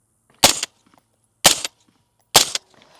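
Three sharp suppressed shots from a 10.5-inch ADM AR-15 rifle fired outdoors, evenly spaced about a second apart, each a short loud crack with a dull splat-like quality and quick decay, with no voices.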